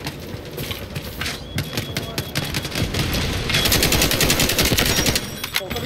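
Gunfire in the video game Delta Force, rapid bursts of automatic shots that build into a dense, sustained volley, loud and close, with players talking underneath.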